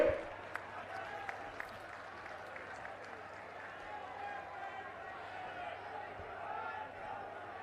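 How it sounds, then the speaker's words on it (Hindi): A crowd at an Aam Aadmi Party political rally in Madhya Pradesh applauds to welcome Bhagwant Mann, a steady, moderately distant mass of clapping and crowd noise mixed with a voice over loudspeakers. "जोरदार तालियां बजाइए"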